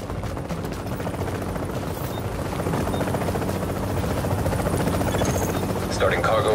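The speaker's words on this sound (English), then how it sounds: "Chopper is inbound." A helicopter approaching, a loud steady rotor thrum and buzz that grows slightly stronger over several seconds, close and continuous with a voice talking over it.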